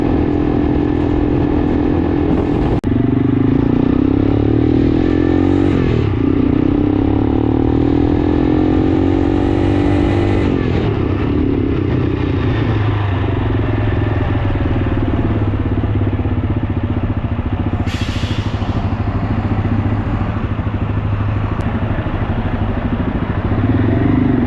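Gatoma 200 motorcycle on the highway between Lusaka and Ndola in Zambia, its engine droning loud and steady with rising and falling pitch as it shifts and accelerates, plus wind rush and occasional clatter.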